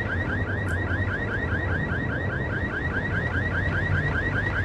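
In the Max Payne video game, a car alarm wails with a rapid, repeating electronic warble that sounds continuously and loudly throughout, over a low background hum.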